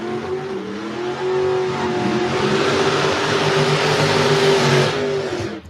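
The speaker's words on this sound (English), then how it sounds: "They got the burnouts." Drag race cars roar through burnouts at South Carolina Motorplex, a loud sustained engine howl with squealing tires, swelling and holding for several seconds before cutting off.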